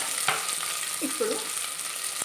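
Potato and brinjal pieces fry in a pan for a masala curry, giving a steady, moderate sizzle throughout with a faint clink or stir near the middle and no voices.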